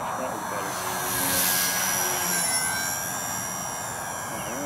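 An XK K110 six-channel brushless RC helicopter in flight: a steady high-pitched rotor and motor whine that swells slightly as it passes nearer, fairly loud and continuous, with a voice heard faintly alongside.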